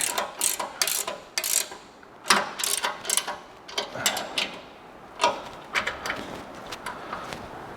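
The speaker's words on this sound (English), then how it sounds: "We'll take our 19 millimeter here and get them close to tight, but not all the way." A ratchet wrench with a 19 mm socket runs down nuts on a coilover and control arm install on a 2025 Ford, in close, crisp bursts of rapid clicking separated by short pauses.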